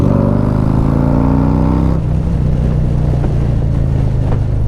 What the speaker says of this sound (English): All right, so we'll give it some throttle. I'm in third gear at 43.